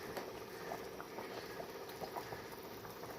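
A pot of fish curry bubbles at a steady boil, a continuous soft blubbing and patter of liquid with small irregular pops throughout.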